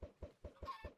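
Minecraft chickens clucking in a video game, five short evenly spaced clucks within one second, close and clear with no talking.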